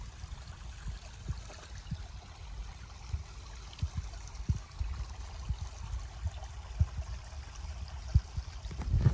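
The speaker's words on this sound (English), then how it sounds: "found the creek. Surprisingly more water than I expected." Creek water runs along a hiking trail near Peavine Falls, a soft, continuous low trickle and gurgle with small splashing pulses, fairly quiet and unbroken throughout.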